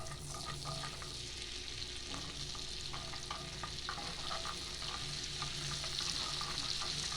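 Minced garlic sautéing in melted butter in a pan gives a soft, continuous sizzle with light crackles and faint stirring scrapes, steady and fairly quiet, no voices.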